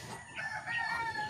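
A barako rooster crows once near a rural Philippine home garden, a rising then sustained cock-a-doodle-doo call that holds clear and fairly loud over faint background noise.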